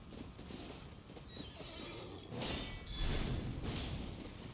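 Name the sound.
horse in Elden Ring video game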